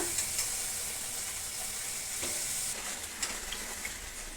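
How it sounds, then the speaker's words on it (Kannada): Sweet dough deep frying in oil, a continuous close sizzle with fine bubbling crackle and a few louder pops and scrapes, steady throughout with no voices. "ಇದು ಡೀಪ್ ಫ್ರೈ ಮಾಡ್ಕೋಬೇಕು"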